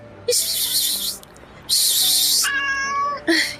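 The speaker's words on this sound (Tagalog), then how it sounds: "Tingnan mo, may pusa na naman dito." A large cat meows loudly and close by, giving two long drawn-out cries followed by a shorter rising meow, with a few quieter chirps in between.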